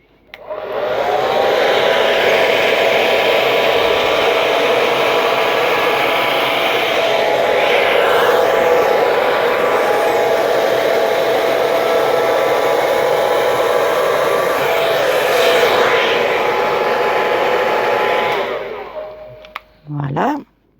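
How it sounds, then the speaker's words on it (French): A hair dryer blows steady, loud air across acrylic pouring paint on a canvas, a continuous whooshing roar lasting nearly twenty seconds before switching off with a few brief clicks and handling noises. "je vais partir du coin pour aller souffler comme ça de chaque côté, une fois à droite, une fois à gauche, jusqu'en haut de la toile"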